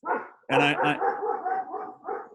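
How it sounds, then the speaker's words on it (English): A dog barks in a quick cluster of sharp, loud yaps close by, with a brief spoken voice just before. "that's my dog you hear back there."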